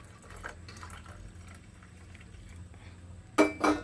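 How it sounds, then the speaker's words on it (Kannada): A short burst of water pouring into a glass near the end, after a few seconds of quiet room tone. "ಎಷ್ಟು ಬಿಸಿ ನೀವು ಕುಡಿತೀರೋ ಅಷ್ಟು ಬಿಸಿ ನೀರು ಹಾಕ್ಕೊಳ್ಳಿ"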